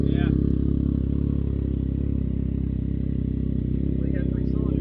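Can-Am Ryker three-wheeler with a three-cylinder engine and a new aftermarket exhaust, idling and revving with a loud, steady, throaty drone close by, a few louder blips, and voices faintly underneath.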